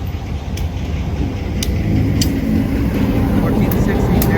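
A car goes past nearby beside a railroad line, a broad rushing rumble that swells toward the end, with someone talking over it.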